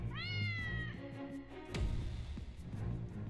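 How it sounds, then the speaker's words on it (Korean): A cat meows once, a clear drawn-out cry close by, followed by quieter indistinct background sounds. "제 귓가에도 고양이 울음소리가 들렸어요"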